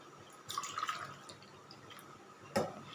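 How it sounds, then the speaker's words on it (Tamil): Water poured from a cup into a cooking pot while making mung bean porridge, heard as a short splashy gush followed by a quieter pause and then a second brief, sharp splash. "நான் இந்த கப்பால் 4 கப் தண்ணி ஆட் பண்ணிக்க போகிறேன்."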